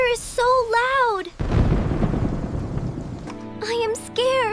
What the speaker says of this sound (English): Oh no! Thunder is so loud!